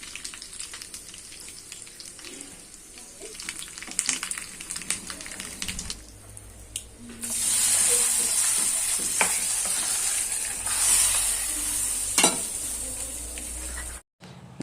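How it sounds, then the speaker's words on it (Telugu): Tempering in oil and ghee for pongal sizzles loudly and steadily in a pan, with a sharp hiss rising halfway through and a few clinks of a utensil. "ఇంకా పోపులోకి అయితే కాస్తంత నూనె కాస్తంత నెయ్యి అయితే వేసుకొని పోపు అయితే వేసాను"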